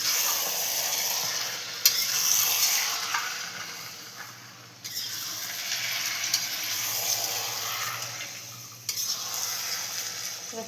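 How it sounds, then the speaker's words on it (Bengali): Tomatoes being stirred in a frying pan for a chicken kosha, a continuous close sizzle broken by a few louder scrapes and clatters of the spoon against the pan, with no talking. "এবার টমেটোটা একটু হালকা একটু নেড়ে নেব।"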